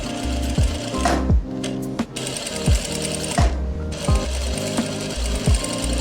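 A sewing machine stitches a pocket onto straight palazzo trousers, running in repeated bursts of rapid mechanical clatter with brief pauses between, close and fairly loud, no talk.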